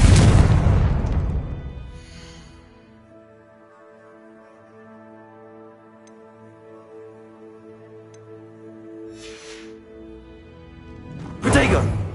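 A Harry Potter–style Confringo blasting spell bursts with a loud boom at the start, then a long sustained tonal hum fades out before another sharp blast erupts near the end.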